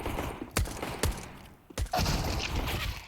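Pistol fire from Glocks and USPs in a Counter-Strike pro match on Dust2: a few sharp, separated shots cracking out over steady game ambience, fairly close and loud.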